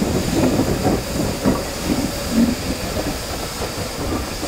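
Steam locomotive 53808 reverses at the West Somerset Railway autumn gala, giving a steady hiss of steam over low chuffing and soft wheel clatter, moderately distant and continuous with no talk.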